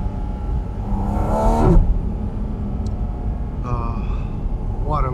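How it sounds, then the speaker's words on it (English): A Porsche GT4 RS Weissach with sport exhaust engaged roars from close range, its engine and induction rising in pitch as it accelerates, then dropping briefly on a shift before climbing again through repeated surges. "you hear those induction noises. Sounds so good."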